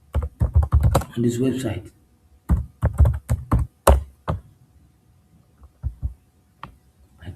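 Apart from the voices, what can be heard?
typing on a computer keyboard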